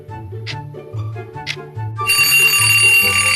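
An alarm clock bursts into loud, bright, continuous ringing partway through, after a stretch of repeating low tones and a couple of short clicks.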